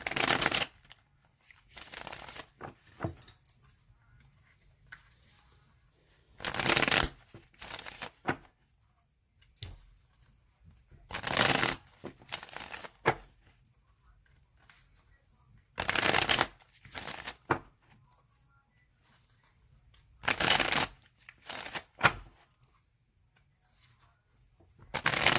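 Tarot cards are shuffled by hand in about five separate bursts of riffling, each a few seconds long. Quiet gaps fall between the bursts.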